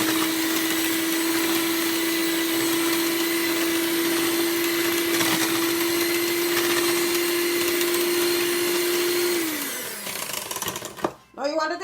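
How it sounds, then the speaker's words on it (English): An electric blender mixing sponge cake batter with milk whirs loudly at a steady pitch, then winds down near the end with a few clunks as it stops. "Just half cup. And you keep on blending."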